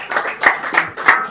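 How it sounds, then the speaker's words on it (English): Audience applause at the close of a talk on the art of Liu Xia, a short patter of clapping with rhythmic swells, moderately loud and heard alone. "Please give a warm welcome or a warm round of applause."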